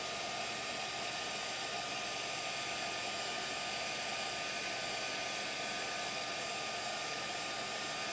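A heat embossing gun blows hot air onto a stamped card, a constant, loud, steady whooshing hum with no change from start to finish.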